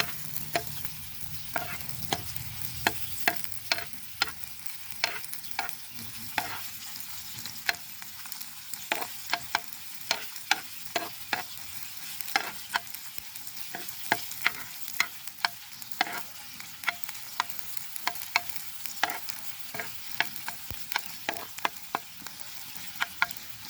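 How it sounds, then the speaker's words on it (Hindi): Sliced onions frying in a pan until lightly browned for misala maghaz, a steady soft sizzle broken by frequent sharp scraping stirs of a spoon, with no one talking. "प्याज आपने ज़्यादा ब्राउन नहीं करने बल्कि हल्के से लाइट ब्राउन करने"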